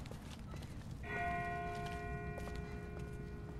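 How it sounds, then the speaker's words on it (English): Distant bell ringing in The Walking Dead game, a faint tolling tone that rises after a second and hangs over low ambient rumble, with soft rustling around it. "That's not the same bell as before. This one's further off."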